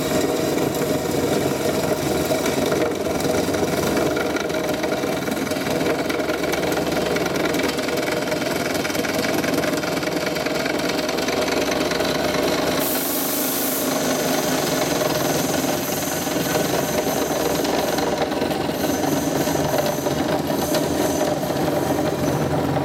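Doringer D350 SA cold saw cutting through solid stress-relieved metal stock, a steady loud mechanical drone with grinding blade noise running continuously, with a brief sharper rise partway through.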